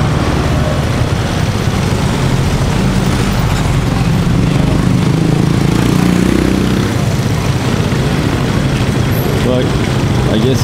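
Motorbike and car traffic near a beach in Alona, Philippines, a steady close engine rumble and exhaust drone with some louder passing vehicles, while a person talks over it.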